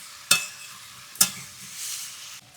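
Water splashes into a hot pan of lightly fried ash gourd in two sharp bursts, each followed by a brief hiss that settles into a soft, steady sizzle.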